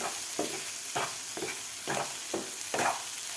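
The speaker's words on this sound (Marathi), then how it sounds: "व्यवस्थित परतून घ्यायचं आहे" Egg bhurji with onion and tomato sautés in a pan, a continuous sizzle broken by about six rhythmic scraping stirs of the spatula, close and fairly loud.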